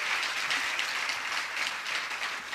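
Continuous applause fills a full house at a devotional Hanuman Chalisa discourse, a thick, even patter of many hands with no pauses.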